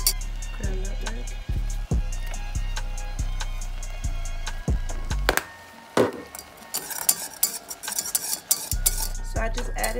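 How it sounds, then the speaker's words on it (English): A spoon stirs peaches for a cinnamon roll peach cobbler in a pot, with repeated scraping and clinking strokes against the metal, loud and close, then busier rattling toward the end. "So I just added my peaches in there and I'm mixing it all up"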